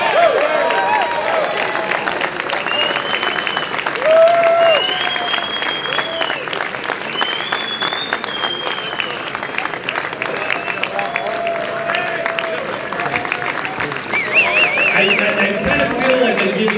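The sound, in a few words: audience cheering and applauding at award speech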